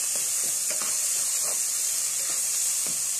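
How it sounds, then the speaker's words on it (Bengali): Two cups of rice toasting in a pan over low heat while making chicken biryani, a steady soft hiss and sizzle with faint scraping stirs, close and unbroken. "এটা প্রায় 2 মিনিটের মতো বেজে নেব।"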